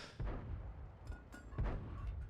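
Tank cannon fire in a tank video game: a few heavy booming shots with rumbling tails over continuous engine and battle noise, with no talking.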